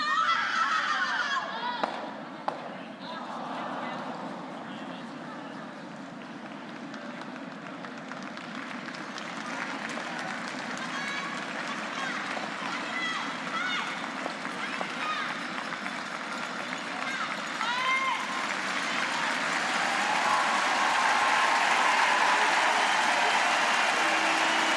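Crowd at a curling match swelling into sustained cheering and applause, a broad roar building steadily and growing loudest toward the end, with a commentator's voice heard earlier.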